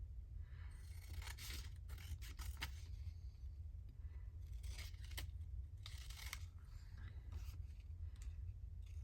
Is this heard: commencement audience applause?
no